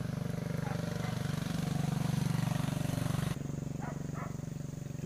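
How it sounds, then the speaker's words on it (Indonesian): A motorcycle climbs a hill with a close, steady pulsing engine putter that drops slightly in level partway through. Faint voices can be heard underneath. "Nah, motor lagi yang naik ke bukit."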